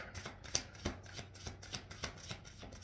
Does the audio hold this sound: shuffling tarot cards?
yes